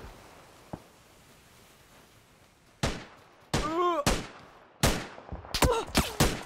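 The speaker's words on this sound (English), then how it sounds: "Someone's shooting from the left" PUBG gunfire on a quiet map: a lone distant shot, then several sharp, loud shots in irregular succession, some with ringing tails, and no talk.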